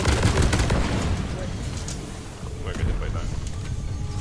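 Rapid gunfire in the Deep Rock Galactic video game, aimed at a detonator creature during a modded swarm mission, forms a dense, loud, continuous burst of shots mixed with game noise, with talk alongside.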